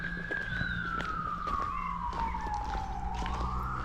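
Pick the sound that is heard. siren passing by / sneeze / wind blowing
siren passing by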